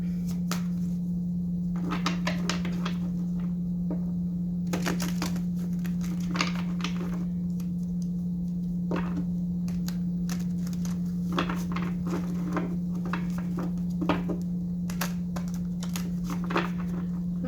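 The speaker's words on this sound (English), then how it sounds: "My shuffling gets the job done, I swear." Tarot cards riffle and snap crisply in short bursts, recurring irregularly at close range over a steady low hum.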